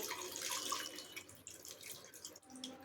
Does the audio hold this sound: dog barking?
no